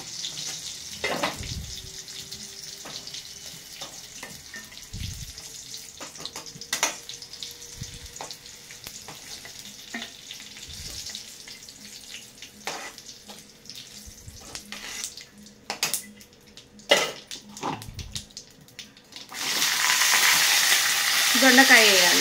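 Ivy gourd (donda kai) fries in a pan with a soft hiss, broken by scattered clanks and scrapes of stirring, and a loud burst of sizzling rises at the end.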